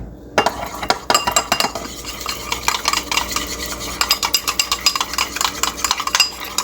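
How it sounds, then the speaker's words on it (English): Mayo and sriracha being mixed in a bowl, a close run of rapid clinking and scraping strokes of a utensil against the bowl, busy and uneven, with no voices. "Let's mix some mayo and a little more sriracha."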